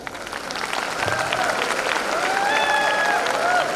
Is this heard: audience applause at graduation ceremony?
yes